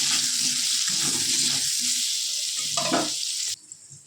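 Potato pieces frying in hot oil with salt and turmeric for a Bengali tangra fish curry, a loud steady sizzle with some stirring scrapes, cutting off abruptly near the end.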